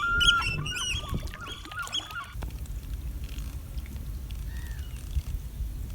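Several birds call and squawk nearby for the first couple of seconds, then fade into a low rumbling outdoor background with an occasional distant cry.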